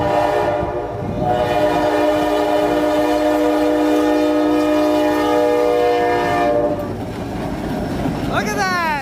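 The ELS 400 locomotive rolls past near Beecher and Pembine, its horn holding a loud, steady chord for several seconds over the rumble of the train, then dropping away as the cars roll on.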